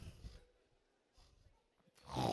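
A voice imitates a sleeping man's snoring with a few rough, breathy snorts spaced across a couple of seconds, quiet at first and louder at the end.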